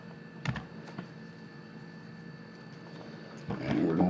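Close keystrokes on a computer keyboard, a few scattered taps, then a short burst of typing near the end over faint room hum.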